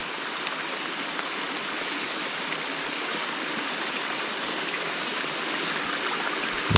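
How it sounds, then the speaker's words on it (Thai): Heavy rain falls at night in a mountain forest, a dense, steady broadband hiss of downpour with no voices, holding even and continuous throughout before a slight swell at the end. "ก็เม็ดฝนหนาขึ้นนะฮะ"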